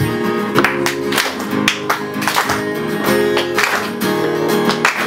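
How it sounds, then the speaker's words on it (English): An audience at a poetry and music highlights event claps, a dense run of overlapping hand claps with uneven bursts that swell and ease over several seconds. "Give it a clap."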